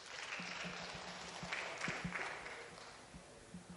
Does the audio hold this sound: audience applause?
yes